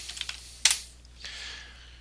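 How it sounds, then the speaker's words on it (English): A computer keyboard is typed on up close, first a few quick light keystrokes and then one louder clack. A softer tap follows before things go quiet. "you can type in Issaquah."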